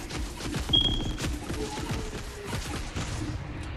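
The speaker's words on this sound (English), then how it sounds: "Airstrike, run." An airstrike in Fortnite lands as a rapid cluster of sharp explosive cracks and pops, hitting one after another at moderate distance.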